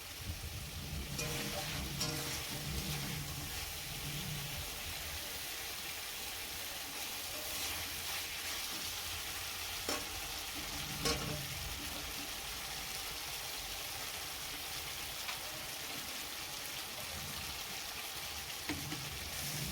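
Mustard paste frying lightly in a pan gives a faint, even sizzle under a steady hiss, with a few soft stirring knocks, quiet and constant throughout.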